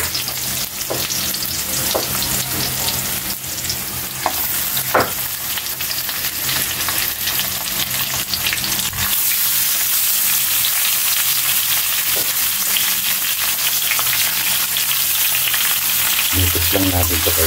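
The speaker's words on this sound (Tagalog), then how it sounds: "Pwede na, Kaylee, ilagay na natin yung pork natin." Pork frying in a pan for pancit gisado, a steady loud sizzle with occasional stirring clatter and scrapes, continuous throughout and intensifying toward the end.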